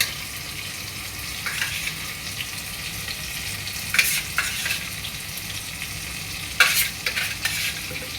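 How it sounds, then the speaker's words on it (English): A spoon stirs turmeric and salt through fish curry frying in a pan, steady sizzle with a few louder scraping strokes spaced through the mix. "Then we mix it all up to make the gravy nice."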